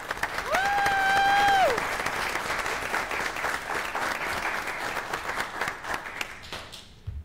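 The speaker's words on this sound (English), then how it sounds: "honor you with a round of applause for your service" Audience applause honoring a planning commission member's service at a public meeting, steady mixed clapping lasting several seconds before tapering off, with a brief tonal whistle-like sound near the start.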